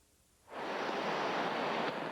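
A raging flooded river near Preston and Falls City in the Snoqualmie area surges in suddenly after a quiet start, becoming a loud, steady broadband roar of rushing water.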